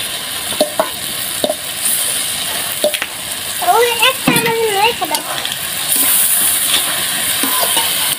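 Potatoes and eggplant frying with spices in hot oil, a continuous loud sizzle with spoon scrapes and stirring knocks. A voice briefly speaks over it midway.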